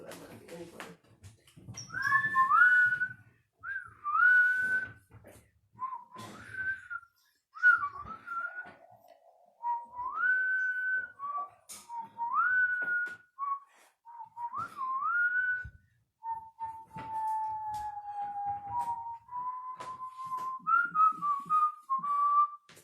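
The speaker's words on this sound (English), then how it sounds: "I was whistling the whole time." A person whistles a melodic tune in short phrases with pauses between them, clear and fairly close, with faint background noise.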